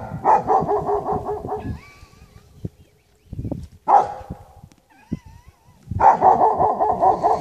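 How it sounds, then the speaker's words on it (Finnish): Dog barking in bursts of rapid, rough barks, close and loud, with whines or whimpers in between, separated by short quiet gaps and an echo-like repeat of the barking outdoors near a cabin. "Kaiku vastaan, niin se haukkuu"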